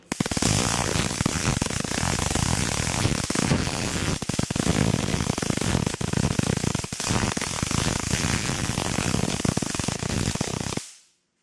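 Continuous loud crackling and popping of high-voltage sparks striking a CD, dense and harsh, running steadily for about ten seconds before cutting off.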